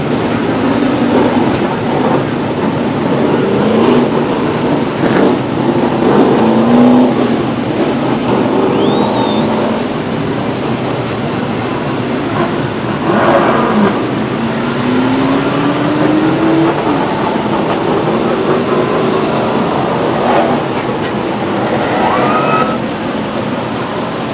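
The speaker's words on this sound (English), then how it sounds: "Ron Stremiska Jr. still your leader on a 41st lap." Late model stock cars race around Stockton 99 Speedway, a loud, continuous engine roar with rising and falling pitch as cars pass, sustained throughout without letup.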